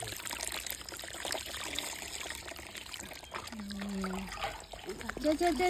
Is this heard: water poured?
yes